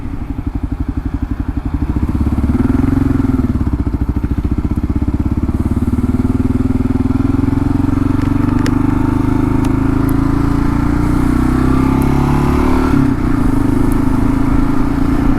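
A Kawasaki KLR 650 engine drones steadily at highway speed, wrapped in loud, constant wind rush from the windscreen buffeting the helmet close by.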